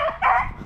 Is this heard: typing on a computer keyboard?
no